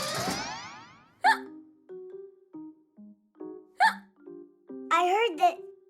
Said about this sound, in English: he had the hiccups for 100 years